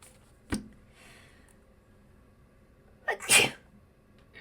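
A person sneezes indoors: a soft intake or small sound first, then a loud, sharp sneeze burst near the end, otherwise quiet.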